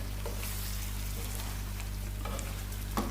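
Aloo gobi, a cauliflower and potato curry, sizzles steadily in a pan while being stirred, with a few soft scraping strokes over a constant low hum, close and alone.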